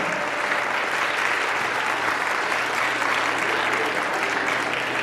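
At a school function of Kripalu Balika Inter College in Pratapgarh, a large audience gives steady, unbroken applause, a dense even wash of clapping that holds at one level throughout with no voice over it.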